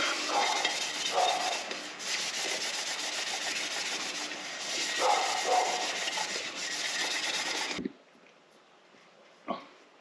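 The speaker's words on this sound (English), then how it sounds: "I'm going to take this red scuff pad and I'm going to scuff it up" A red scuff pad is rubbed hard across a cover during rear end and pinion seal work, making a loud, continuous abrasive scrubbing in close strokes that stops abruptly near the end, followed by a single faint knock.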